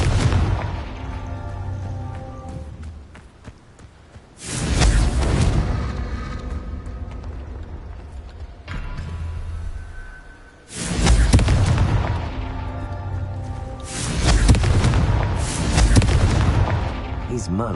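Confringo blasting spells go off in Hogwarts Legacy as three loud, booming explosions with long rumbling tails, spaced several seconds apart over a low game ambience.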